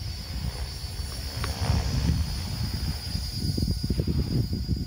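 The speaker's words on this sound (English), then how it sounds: "Most dominant sound here is that of the transmission." Helicopter transmission whine and low mechanical rumble, steady and fairly loud, with faint occasional rotor pulses beneath and no voices.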